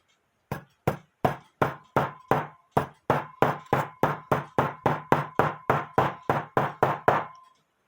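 Sharp hammer knocks drive a part into an antique Schmeckenbecher cuckoo quail clock, about twenty evenly spaced loud taps in a steady rhythm, close and alone.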